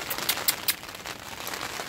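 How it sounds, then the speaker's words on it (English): Pouring rain hissing steadily beside a chicken run under a tarp, broadband and constant for two seconds with a few sharper drip spatters early on. "It's raining today, pouring."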